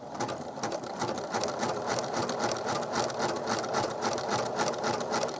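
A sewing machine running a zigzag stitch through faux fur, a steady, close, continuous mechanical whir with an even rapid needle rhythm throughout.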